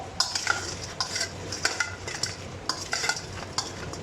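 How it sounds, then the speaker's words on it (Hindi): Fried buffalo chicken wings tossed in sauce make quick, rhythmic wet slaps and clinks of a utensil against the pan, repeating every half second or so over a soft sizzle. "2 से 3 टेबल स्पून हम इसे सॉस ऐड करके इसे अच्छा सा टॉस कर लेंगे"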